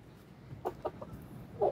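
Carijó, naked neck and red chickens clucking, a few short separate clucks close by, growing a little louder toward the end, against quiet farm background.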